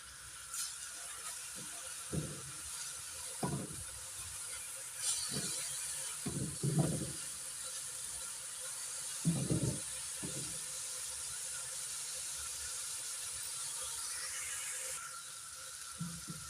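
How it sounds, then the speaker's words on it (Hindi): Onions frying in a pan on a stovetop, a steady soft sizzle and hiss running throughout, with a few faint clinks and low knocks of utensils scattered across it. "प्याज हमारी फ्राई हो रही है"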